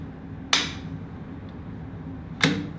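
A rifle bolt is lifted on an Aero Precision rifle with the sear already dropped, giving two sharp metallic clicks about two seconds apart over steady background noise, close and distinct.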